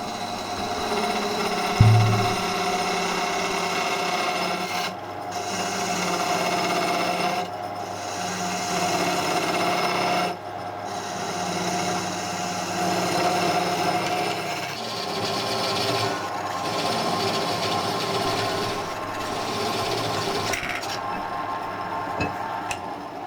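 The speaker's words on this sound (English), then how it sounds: "It's just fine for hand sharpening your tools." Woodturning tools sharpened by hand on a slow-speed bench grinder, a steady whirring drone with a gritty metal-on-stone texture that dips briefly between passes, continuing close and alone throughout.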